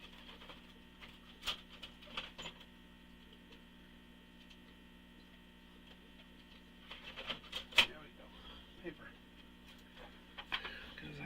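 A home printer running, with a steady mechanical hum and scattered clicks and ticks rising into a busier burst of rattling near the middle, fairly quiet, with someone talking intermittently.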